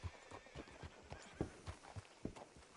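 Horse hooves clop in the video game Red Dead, a steady rhythmic walking gait of soft thuds repeating about three times per second, faint and close, with no talking over them.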